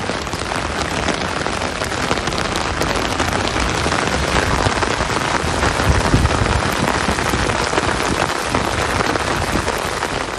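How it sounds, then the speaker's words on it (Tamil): Heavy rain with strong wind in Tamil Nadu, a dense, loud and unbroken roar of downpour on surfaces that holds steady throughout, with no voices. "பலத்த காற்றுடன் கனமழை பெய்தது"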